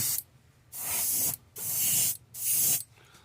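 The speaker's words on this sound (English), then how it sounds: "I'm kind of blowing this paint on right now because it is the base coat" Three bursts of aerosol spray paint laying a base coat onto a bicycle crank, each a loud hiss lasting about half a second to a second, separated by short quiet gaps, close and with no voices.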